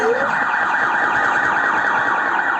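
An ambulance siren sound effect wails continuously and loudly with a steady, warbling pitch for the whole stretch, alone without talk over it.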